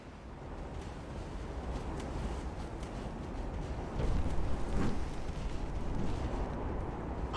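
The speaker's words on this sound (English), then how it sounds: "All these little shells coming in." Incoming naval shells in the warship game Ultimate Admiral: Dreadnoughts rumble and burst as a low, continuous roar of distant explosions that swells louder partway through.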